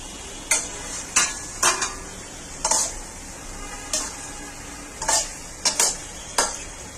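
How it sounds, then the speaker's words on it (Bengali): Chicken pieces for a curry fry in a frying pan with oil and Kashmiri red chili, giving a steady close sizzle broken by about a dozen sharp, irregular scrapes and clinks of a utensil stirring against the pan, with no voices. "আমরা মাংসটা একটি ফ্রাই প্যানে ভেজে নিচ্ছি"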